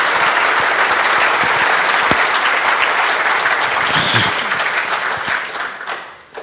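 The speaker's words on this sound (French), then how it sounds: "On peut les applaudir avant de poser vos questions." Strong audience applause for two speakers after a client testimonial presentation, dense clapping that holds steady and then tapers off near the end, with a faint voice toward the close.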